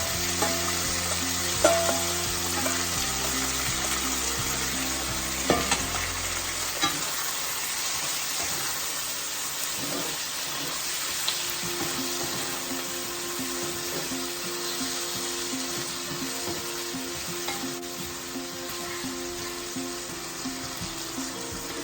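Soya chilli frying in sauce in a restaurant-style wok, giving a continuous close sizzle with occasional scraping stirs and a background tone early on.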